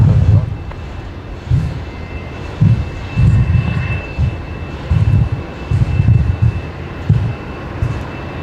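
Air New Zealand Boeing 777 landing at Brisbane Airport, a distant jet engine rumble under intermittent bursts of noise, with a steady low roar throughout.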